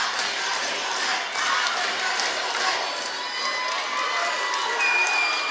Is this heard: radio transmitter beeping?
no